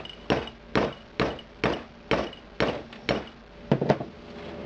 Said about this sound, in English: Take your hammer and then you just bang it down.